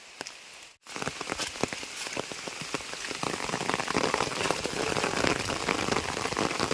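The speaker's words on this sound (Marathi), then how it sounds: "हलक्या हलक्या पावसाला सुद्धा सुरुवात झाली" Light rain patters steadily on a surface nearby, a dense crackle of drops that grows slightly heavier, with no voices.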